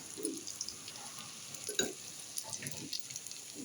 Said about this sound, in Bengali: টিকিয়া ভাজবো, ডিম দিয়ে ডিম ফেটে নিয়ে ডিমের ভিতর দিয়ে ভাজবো।